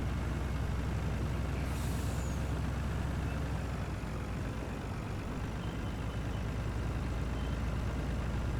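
A Mercedes truck in Farming Simulator 19 rumbles steadily with a low, constant engine drone, and a sharp air brake hiss sounds briefly near the start.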